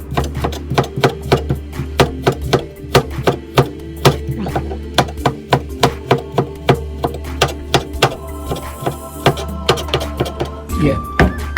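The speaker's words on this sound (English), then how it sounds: "The ginger, a slice is enough. Shred it into pieces." A knife chops fresh ginger into shreds on a cutting board, a fast run of close, crisp taps in steady rhythm for a stir-fry.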